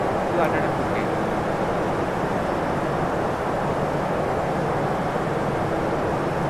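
Steady jet engine drone of an Airbus A320 in Flight Simulator X, a constant broad roar with no change in level throughout, heard under a voice talking.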